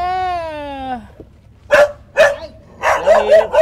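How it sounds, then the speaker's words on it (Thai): A dog barks in a Thai home setting: a long whine at first, then sharp yips and a series of close, loud barks in quick bursts, with no talk over them. "มีหมาอีกตัวนึงโอ้ยมึงเห่าเก่งซะด้วยนะมึงเนี่ย"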